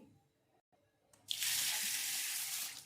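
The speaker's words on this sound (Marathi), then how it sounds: "इथे मी याला स्वच्छ धुवून घेणार आहे धुताना एक गोष्ट लक्षात घ्यायची" Running tap water pours steadily into a vessel while lentils and rice are rinsed for dal khichdi, starting abruptly after a quiet moment and continuing as an even, close splashing rush.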